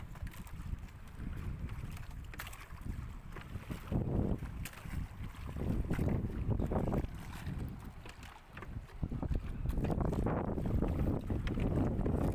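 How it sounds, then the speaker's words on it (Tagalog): Strong wind buffets the microphone in heavy, continuous gusts outdoors near water while fishing nets are set, with a steady low roar throughout. "At lumakas na naman ngayong hangin dito banda"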